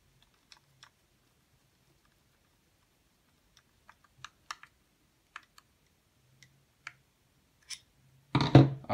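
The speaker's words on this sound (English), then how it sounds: "So we'll put these screws in" Small screws being fitted into a PDI MZ V-Trigger for a paintball gun, sparse faint metallic clicks and ticks at close range over several seconds, ending in a louder burst of handling noise.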